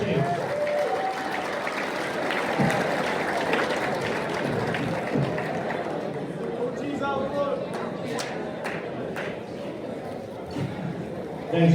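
Applause for the Schoolboy 1 champions at an amateur motorcycle racing awards banquet, steady crowd clapping mixed with chatter and voices throughout, moderately loud and sustained.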